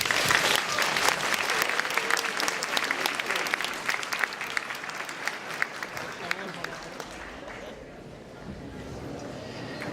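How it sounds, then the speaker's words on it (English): An audience at a cosplay awards ceremony applauds, a dense, steady wash of clapping that slowly thins out and fades toward the end, with some talk underneath. "Applause, please."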